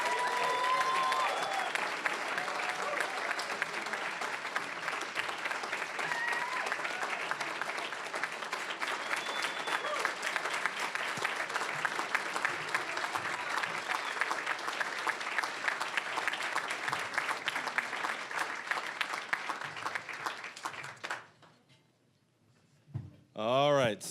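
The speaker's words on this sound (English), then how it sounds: "one more big round of applause for these folks" Sustained audience applause at an awards ceremony for a 2017 Nations Cup competition, dense and steady for about twenty seconds before dying away, with a faint voice starting at the very end.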